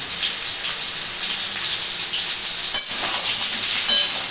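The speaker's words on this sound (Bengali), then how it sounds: "এই ঝিঙেগুলো আমি দিয়ে দেবো এবার এটাকে ভালো করে ভাজবো" Sliced ridge gourd fries in an oil-filled pan with a steady, loud sizzle that never lets up, briefly broken near the end by a stirring scrape before the hiss swells again.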